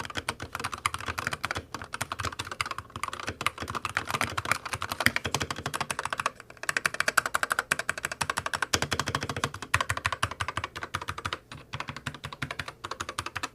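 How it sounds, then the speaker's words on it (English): Rapid, steady typing on a SteelSeries Apex 9 TKL mechanical keyboard with OptiPoint switches, close and clacky, with brief pauses between bursts of keystrokes and no voices. "here's a typing test for y'all to hear what this keyboard actually sounds like"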